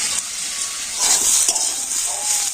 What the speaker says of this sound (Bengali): আলু আর কুঁদরিটা আমি তেলের উপরে একটু ভালো করে ভেজে নেব।